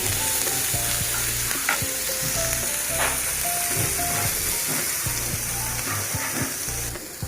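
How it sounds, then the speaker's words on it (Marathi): Onion and rice roast in a hot pan with a steady loud sizzle and frying hiss, while stirring scrapes and clinks sound close up throughout. "आणि त्याबरोबरच मी आता इथे कांदा पण घेते भाजून।"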